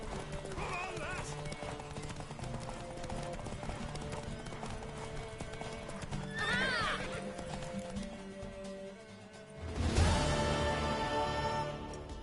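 Horse hooves clip-clopping with whinnies and a neigh in the Witcher 3 video game, steady galloping rhythm under game dialogue and music, with a louder burst near the end.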